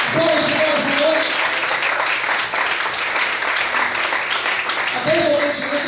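A church congregation applauds continuously at a night service, broad, even clapping filling the space, with speaking voices audible over it at the start and end.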